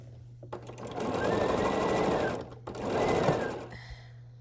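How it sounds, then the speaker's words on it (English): A sewing machine stitches the seams of a scrappy quilt block in two steady motor runs with a short pause between, the whir close and loud over a constant low hum. "we'll start sewing here"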